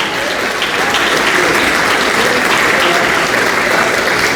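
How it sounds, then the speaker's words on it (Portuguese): A church congregation claps loudly and continuously during a worship service, dense applause filling the room without pause for several seconds. "Vamos dar uma salva de palmas para esse Deus. Bata a palma e glorifique ao Senhor."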